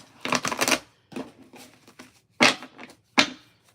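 Tarot cards being shuffled in several quick, riffling bursts separated by short pauses, close and crisp.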